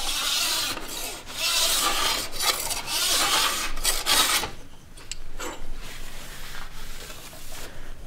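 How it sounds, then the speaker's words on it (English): Diamond stones and files scraping along the metal edge of a ski during tuning: steady, close rasping strokes, loud at first and then lighter and patchier. "so you can file it with your diamond stones and your files"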